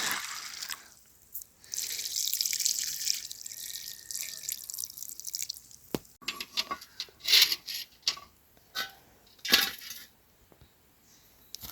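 Running water splashing and dripping while an onion and potatoes are washed outdoors for a campfire stew, with a steady pour at first, then irregular drips and splashes close by.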